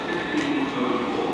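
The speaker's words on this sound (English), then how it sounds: "the 1504 Southwest train service to Weymouth, which is coming in right now" A South Western Railway train runs at Bournemouth station on the line to Weymouth, a continuous broadband rumble with rail noise, fairly close and steady throughout.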